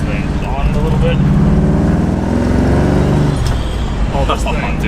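A revived $2500 sleeper station wagon, newly tuned with roughly 50 extra horsepower, drives at a steady pull. Engine and road noise rumble continuously inside the cabin, with voices talking over it.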